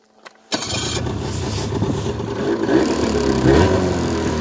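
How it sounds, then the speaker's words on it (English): A 2001 Ski-Doo Formula 500 liquid-cooled snowmobile engine cranks and fires after a short quiet moment, then settles into a loud, steady two-stroke idle with slight revs, close by. "So we're gonna start this bad boy up."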